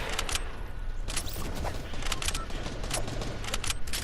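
Gunfire in a shooter video game with hunting rifles, heard as a dense, continuous burst of loud overlapping shots and crackling impacts, close and busy throughout with no talking.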